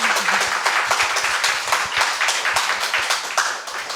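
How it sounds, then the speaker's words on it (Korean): An audience in a cool indoor hall applauds, dense continuous clapping at steady volume for the whole span, slightly fading near the end. "박수 한번 다시 부탁드리겠습니다."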